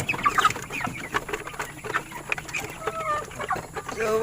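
Broiler chickens ready for harvest cluck steadily in a busy coop, many birds overlapping at close range with short chirps and clucks throughout.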